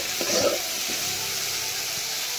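Onions frying with salt in hot oil in a home kitchen, a steady close sizzle with brief stirring scrapes early on, no talk over it.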